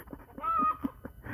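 A chicken clucks in a few short, close bursts with a brief squawk, fairly quiet and heard alone without talk.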